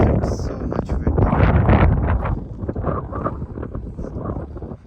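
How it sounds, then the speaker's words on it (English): Strong gusty wind buffets the microphone outdoors on a freezing January day among houses in McKinney, Texas, with loud rumbling bursts that swell and ease. "Everybody's inside because it's so much windy."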